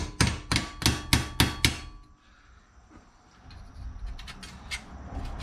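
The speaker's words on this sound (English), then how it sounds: "So maybe I can actually get a chisel in there and make it move a little bit more." Sharp, ringing metal strikes as a chisel is hammered against the heat shield of a Jeep JK, six loud evenly spaced blows followed by quieter scraping and a few lighter taps.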